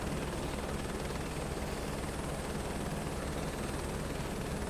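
A helicopter in Microsoft Flight Simulator 2024 comes in to land, its rotor and turbine producing a steady, dense broadband roar that holds constant at moderate level with no voices.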